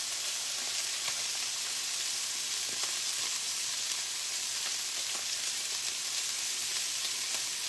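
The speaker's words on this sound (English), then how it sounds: "when I'm frying, it's hard to hear over" Steady, continuous sizzling of chicken frying in a pan, a dense crackling hiss with faint pops scattered throughout and no voices.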